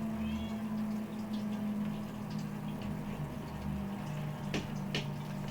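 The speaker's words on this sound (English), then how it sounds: "The cat wants in." A cat meows faintly to be let back inside, two brief calls near the end over a steady low hum and constant background noise.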